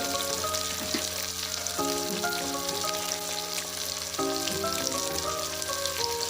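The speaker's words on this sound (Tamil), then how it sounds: "நம்ம இப்போ வெங்காயம் ஃப்ரை பண்ணிக்கலாம்" Onions fry in hot oil in a pan for bisi bele bath, giving a steady, dense sizzle that runs unbroken throughout. Faint tonal background sounds sit underneath.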